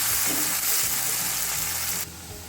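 Onions and curry leaves sauté in hot oil for a Tamil prawn kulambu, giving a steady close sizzle and frying hiss throughout that drops sharply quieter near the end, with no talking.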